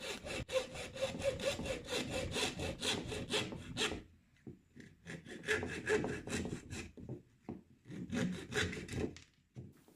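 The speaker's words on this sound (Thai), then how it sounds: "ผมจะใช้ เลื่อยตัดเหล็กเนี่ย ตัดออก" A hacksaw rasps through metal in quick back-and-forth strokes, three bursts of cutting with brief pauses between, close and fairly loud.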